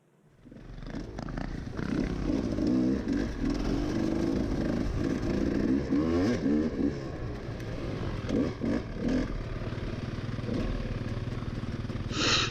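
A dirt bike engine drones steadily while climbing a steep, rough trail in the hills of East Tennessee, its low rumble holding loud and continuous with fluctuating throttle throughout.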